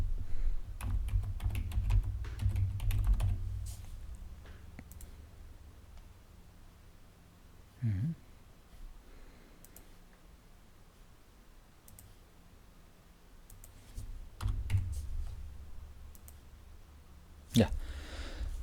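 Computer keyboard typing as a search term is entered into a legal entity extraction tool: a quick burst of clicky keystrokes at the start, then sparse isolated taps, with faint room tone between.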